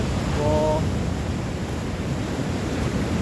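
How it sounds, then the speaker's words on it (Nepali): Sea waves crash along the coastline shore in a continuous loud wash of surf and wind, with a brief faint tonal sound early on and no speech. "समुद्र आमामा हेर्नु यहाँ कत्रो छाल हानेर"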